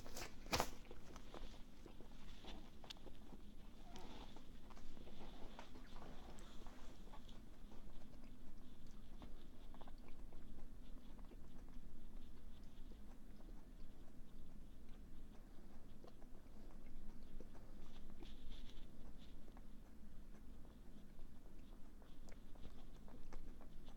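Someone slowly chews a thick-walled, juicy Monster Naga chili pepper, with soft, close wet crunching and mastication sounds continuing steadily over a quiet room background, no talking.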